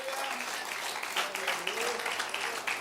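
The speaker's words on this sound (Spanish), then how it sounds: "Den un aplauso al Rey de Reyes y Señor de Señores" Applause from a church congregation during a sermon, a steady wash of clapping at moderate level, with a voice talking or calling out over it throughout.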